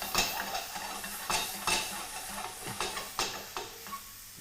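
Anchovy butter melting in a hot pan beside pork chops with fresh rosemary, a steady close sizzle cut by repeated scraping and tapping of a utensil in an uneven rhythm, no speech.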